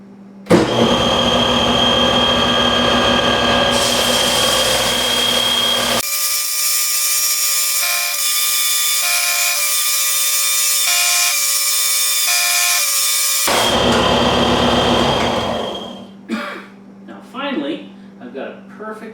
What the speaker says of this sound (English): take them over to the sander and sand them all in one pass to be perfectly flat